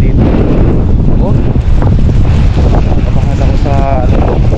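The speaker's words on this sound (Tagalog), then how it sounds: "Mas pala yung hangin dito." Strong storm wind buffets the microphone in a loud, continuous roar with gusting rumble, while a person talks briefly over it.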